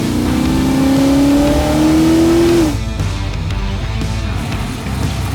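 Holden HQ GTS Monaro with a large solid cam revs loudly with a rising engine note, then drops into a deep, uneven burbling rumble at idle.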